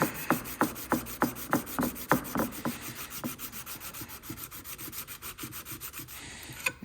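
A steel card scraper has its leftover burr worked off by hand, giving a run of evenly spaced rasping strokes that fade into quieter, softer rubbing, close up with no talking.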